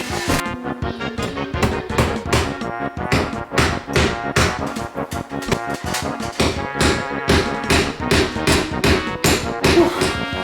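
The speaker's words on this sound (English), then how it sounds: "I had some extra nails and a hammer laying around that I could use for this." Rapid, steady knocking and tapping strikes repeated throughout, dense and fairly loud, like a hammer driving nails at close range, while building an insulated attic hatch.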